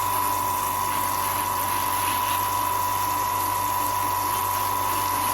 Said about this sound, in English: I'm just putting a tiny, tiny bit of water through my hose.